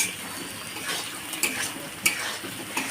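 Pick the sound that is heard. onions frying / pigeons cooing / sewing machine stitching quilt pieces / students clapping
onions frying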